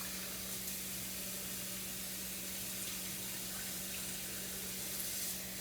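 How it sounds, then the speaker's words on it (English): Cold tap water runs steadily from a faucet over rice being washed in a bowl, a constant close hiss and splash with no pauses and no voices. "Just run some cold water on it and run your hand around in it 3 times"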